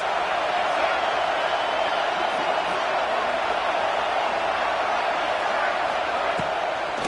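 A dense stadium crowd at a college football game makes a steady, loud, broad roar that holds level from start to finish without clear peaks.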